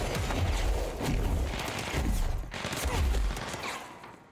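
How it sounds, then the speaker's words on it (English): Rapid bursts of video game explosions and gunfire, loud and close, pounding in several clustered volleys with brief gaps between them. "Why do things keep exploding in my face?"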